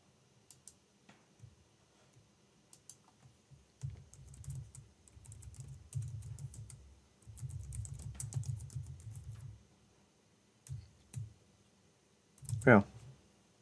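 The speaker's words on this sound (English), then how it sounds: "my fingers were already typing origin master" Keys on a computer keyboard clatter in short bursts as a git push command is entered, close and fairly quiet, with a person talking between the flurries.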